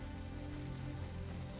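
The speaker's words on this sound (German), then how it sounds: "Es fängt gerade einfach schon wieder an zu regnen." Steady rain falls in the survival game The Isle, a continuous soft patter and hiss that stays faint and even throughout with no one talking.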